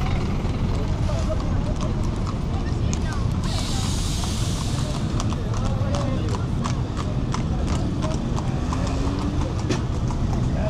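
Horses' hooves clip-clop through a crowded Jemaa el-Fnaa square in Marrakesh, a steady run of sharp, evenly spaced knocks carried over constant crowd hubbub and nearby voices for the whole stretch.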